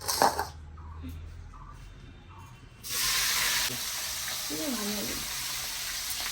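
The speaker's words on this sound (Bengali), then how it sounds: "এবার আমি ক্যাপসিকাম, বিনস আর মটরশুঁটি গুলো ভেজে নেবো" Steady hissing sizzle of capsicum, beans and peas frying in a pan, growing louder partway through, with faint kitchen clatter and no talking.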